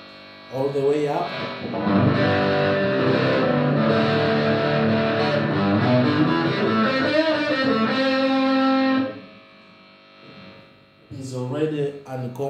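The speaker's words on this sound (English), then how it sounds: "it's really a heavy distortion." An electric guitar through a Behringer HD300 Heavy Distortion pedal with boost near 75 chugs loud, heavily distorted chords for several seconds, then a short quiet gap, and a voice speaks briefly at the end.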